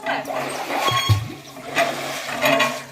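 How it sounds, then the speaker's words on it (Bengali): Water is drawn from a village well for washing freshly picked garden vegetables, with sloshing and pouring splashes rising in a few surges over about three seconds while a voice talks over it. "কুয়োর থেকে জল তুলে নিই, সবজিগুলো একবার ধুয়ে নেবো।"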